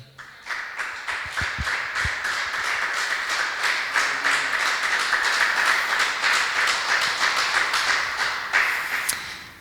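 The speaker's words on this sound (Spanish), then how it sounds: "Un aplauso al Señor" A church congregation claps steadily for several seconds during a religious service, the applause building and holding before tapering at the end.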